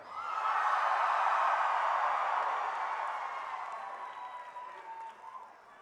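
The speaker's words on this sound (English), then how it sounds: "can we get one last cheer?" A high school commencement crowd cheers and applauds in a large swell that starts loud right away, holds steady, then slowly fades away over several seconds, with no one speaking over it.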